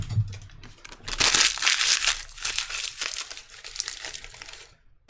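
Paper is crumpled and crushed close to the microphone as a sound effect, a dense, crackling rustle that swells after a second and runs for several seconds before tapering off.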